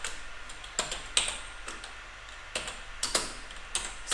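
Someone types a dpkg command on a computer keyboard in quiet, short bursts of key clicks separated by brief pauses, close and clear.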